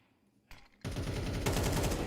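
Gunfire in a Counter-Strike match: a single sharp shot, a short pause, then loud, dense automatic fire with overlapping shots that runs to the end.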